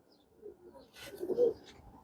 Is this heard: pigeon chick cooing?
yes